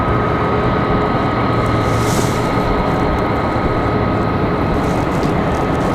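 A Copa Airlines jet on final approach at Raleigh-Durham airport, its engines giving a steady, loud broadband roar that holds evenly throughout without any talk.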